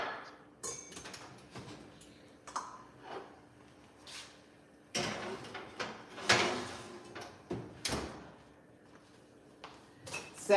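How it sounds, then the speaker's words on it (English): An oven door opens and closes with a series of clunks, bangs and rattles as a cabbage casserole goes into the oven in a home kitchen, the sharp knocks irregularly spaced and close by. "It is ready to go in the oven."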